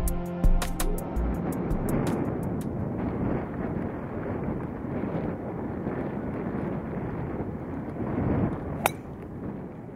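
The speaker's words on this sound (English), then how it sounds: "I had no problem with the wind." Wind blows across an open golf course in a steady, loud rumble of microphone buffeting. A burst of metallic clinks comes at the start and a single sharp click near the end.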